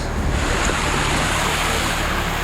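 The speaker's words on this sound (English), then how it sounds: "It was really hard to tell where the waterfall of Goa Tete started and where it ended" The Goa Tetes waterfall in Java roars as a steady, dense, full rush of falling water, very loud and close, with no voices over the continuous wash.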